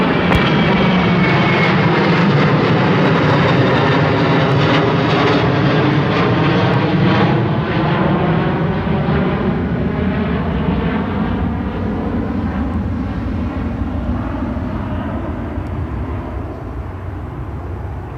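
A jet airliner takes off from Seattle-Tacoma airport, its loud, steady engine roar filling the scene for the whole stretch and easing only slightly toward the end, with no voices over it.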